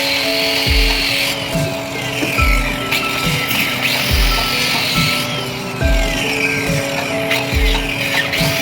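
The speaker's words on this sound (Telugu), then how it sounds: "చూసారు కదా, మనం 4 వైపులా కటింగ్ అనేది చేస్తాం." Wood is being hand-sawn for a wooden plastering trowel, with regular back-and-forth rasping strokes that repeat roughly every second, loud and close.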